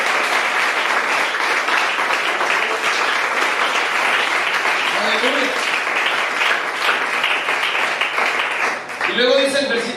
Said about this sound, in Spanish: ¿Cuánto le dan un aplauso a aquel que viene de Filipinos?